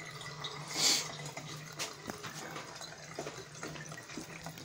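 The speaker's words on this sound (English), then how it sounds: "Hot water must run" Hot tap water runs steadily through a colander as grease and fat are strained from cooked mince for spaghetti bolognese or cottage pie, with a brief louder splash near the start and a soft continuous flow after.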